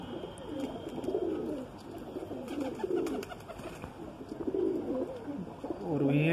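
Madrasi pigeons coo in repeated low, throaty rolling calls, several birds close by over a constant noisy background hiss.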